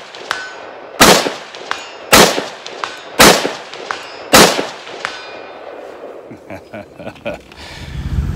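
Rifle shots fired at a steel target 200 yards out through a Swampfox Blade prism optic, four loud sharp cracks about a second apart, each with a ringing tail, followed by quieter rustling and faint trailing sounds.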